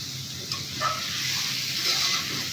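Chicken for a chicken kosha pulao picnic is stirred in a hot pan. It sizzles with a steady, fairly close hiss, and a few soft utensil scrapes come through during the short stretch.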